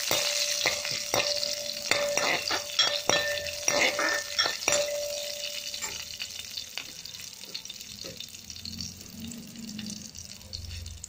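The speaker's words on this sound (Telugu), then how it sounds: "ఇప్పుడు ఎండుమిర్చి కూడా వేసేద్దాం, కొంచెం జీరా, ధనియాలు ఇలా పోపు పెట్టేసుకుని" Dried red chillies, cumin and coriander seeds tempered in hot oil for a coriander green chutney, giving a steady sizzle with sharp clatters and scrapes of a pan and utensil, close and fairly loud, easing to a quieter fry toward the end.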